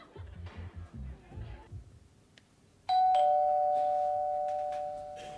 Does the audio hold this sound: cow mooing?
no